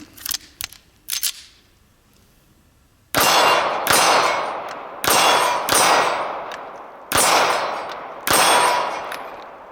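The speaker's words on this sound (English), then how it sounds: "So if we do some quick follow-up shots on the law enforcement target." Gunshots strike steel shooting targets outdoors: a few lighter quick pops early, then six loud, close clanging impacts spaced roughly a second apart, each ringing out briefly.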